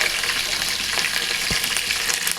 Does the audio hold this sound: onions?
yes